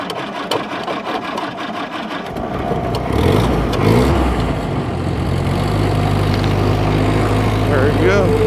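A 1942 Ford GPW Jeep engine runs roughly on old fuel, its loud uneven chugging and popping building before the motor stalls out, with a low steady rumble continuing afterward.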